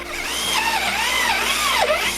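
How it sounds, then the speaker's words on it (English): A power drill bores 12mm holes for steel angle brackets in the corner of an art studio build, a steady loud whine with rising and falling pitch throughout. "I'm drilling 12mm holes for the angle brackets that will be in each corner of our studio."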